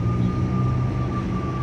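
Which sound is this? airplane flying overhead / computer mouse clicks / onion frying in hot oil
airplane flying overhead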